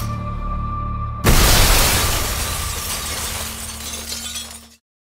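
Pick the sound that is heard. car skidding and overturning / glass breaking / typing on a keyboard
glass breaking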